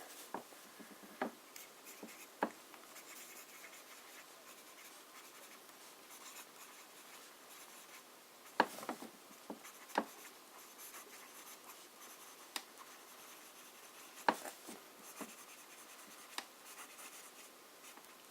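Wet broad-nib fountain pen laid down with Diamine Pumpkin ink, giving a soft, steady scratch of the nib on paper with occasional sharper taps and strokes, close and quiet, with no voices.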